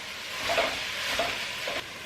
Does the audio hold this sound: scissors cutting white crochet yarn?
no